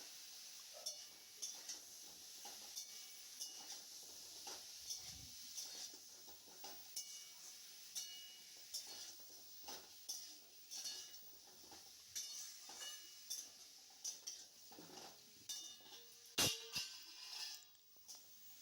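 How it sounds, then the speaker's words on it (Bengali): Vegetables frying in a pan for a chicken stew, with repeated clinks and scrapes of a utensil against the pan and soft sizzling throughout, close and fairly quiet. "সবজিগুলো দিয়ে দিয়ে আমাদের আবারও কিছুক্ষণ কিন্তু ফ্রাই করে নিতে হবে।"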